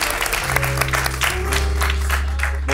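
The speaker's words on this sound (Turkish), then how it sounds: "Lara Hanım, alkışlıyoruz sizi." A TV talk show studio audience applauds steadily with dense, continuous clapping, while a low sustained musical tone hums underneath.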